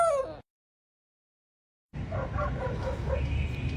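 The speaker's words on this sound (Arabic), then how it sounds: "الكلب بيهوهو على الكبده" A dog yelps and barks near a street liver stall, a short bark at the start, then a burst of yips and whimpers amid busy background noise after a silent gap.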